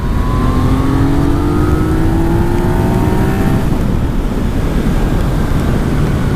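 A Yamaha MT motorcycle pulls hard in fourth gear, its engine note climbing steadily under loud, constant wind rush over the whole run.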